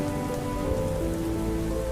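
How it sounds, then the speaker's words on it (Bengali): Steady rain patters on a surface beside a window, a continuous close hiss with small drop taps and no voices. "বৃষ্টি জানালার কাছে পড়ছে"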